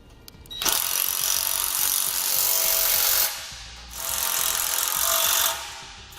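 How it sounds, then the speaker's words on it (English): A socket wrench tightens a bolt on a Malone 2 Tier LowBed MicroSport trailer, giving loud, close mechanical grinding in two long sustained runs separated by a brief pause, with no talk. "Now we'll just grab our 9/16 socket and wrench and tighten it down."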